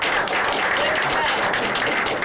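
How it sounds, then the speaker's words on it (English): A studio audience on a late-night talk show gives a brief, loud round of applause, a dense burst of many hands clapping over a couple of seconds. "So, let's have a round of applause."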